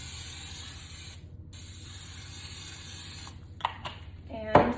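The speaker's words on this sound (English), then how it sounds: "we're gonna spray the pan with some Pam" A steady aerosol spray of Pam cooking oil onto a pan hisses for a few seconds, pauses briefly, then sprays again, followed by a few clatters and a knock of the pan.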